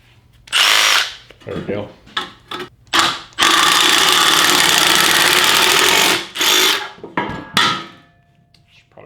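DeWalt drill fitted with a shear attachment, running in loud bursts then a sustained whining cut through sheet metal for several seconds, stopping and restarting close by, with a brief spoken remark.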